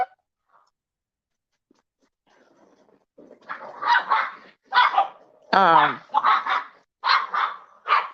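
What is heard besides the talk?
dogs playing and barking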